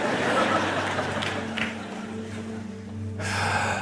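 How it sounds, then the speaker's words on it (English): A deep, deliberate breath drawn in slowly and then released, close and fairly loud, with a soft hum of room tone underneath and no talking. "No, just I physically breathe."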